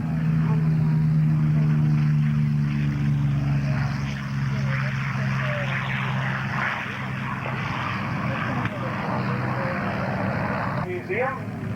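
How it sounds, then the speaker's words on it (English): Curtiss P-40 warbirds from 1944 fly past at an airshow, their propeller engines droning loudly and steadily with a shifting pitch as they pass. "Here comes the first P-40 flight of the day"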